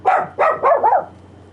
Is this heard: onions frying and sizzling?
no